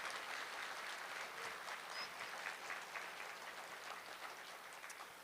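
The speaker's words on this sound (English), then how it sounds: "Applause now, if you would." Faint, distant applause at a 2021 CHS graduation ceremony, a soft continuous patter of many hands that stays even and low throughout, with no voices over it.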